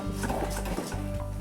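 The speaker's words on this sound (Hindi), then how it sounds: "इस टाइम छोड़ना नहीं है, बराबर ऐसे चलाते रहना।" Coconut barfi batter being stirred in a steel pan, a steady scraping and rubbing with a low continuous hum, close and moderately loud, no talking.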